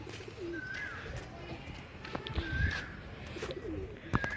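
Desi pigeons in a home loft coo in soft, low repeated phrases, several birds close by over a quiet background, with a few brief louder bursts.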